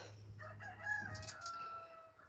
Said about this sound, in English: outside there's a rooster crowing